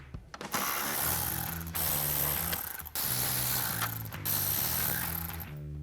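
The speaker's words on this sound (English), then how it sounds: "Now grab a ratchet and a 10mm socket." Ratchet with a 10mm socket removing grille bolts on a 2021-2025 Ford Bronco: loud, close, rapid clicking runs in several bursts separated by brief pauses as the bolts turn.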